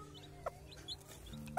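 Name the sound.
bantam hen clucking with newly hatched chicks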